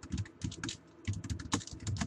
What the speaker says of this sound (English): I'm going to hit the enter key a couple of times. And I'm just going to write something.